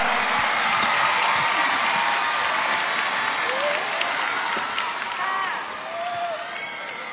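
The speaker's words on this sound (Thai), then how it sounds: "เสียงปรบมือควรจะเป็นของสุภาพสตรีท่านนี้ด้วยครับ" A large audience at a televised singing competition applauds loudly and continuously, with some crowd noise and faint voices under the clapping, easing slightly toward the end.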